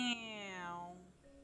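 A cat meows once in the House Flipper video game, a single clear, close meow with a falling pitch that fades over about a second.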